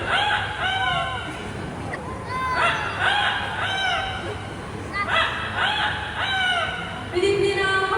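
A bird imitating a rooster's crow at a bird show in Singapore's Bird Paradise, giving several loud, drawn-out honking calls one after another, with people talking around them.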